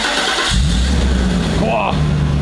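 A Mercedes W140 S-Class engine cranks and fires, settling into a steady low idle rumble close by, with people talking over it.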